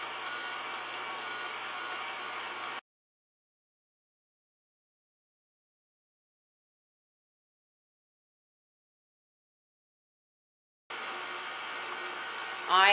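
An electric mixer whirs through cheesecake batter as eggs are added one at a time, running for a few seconds, cutting out into silence, then starting up again.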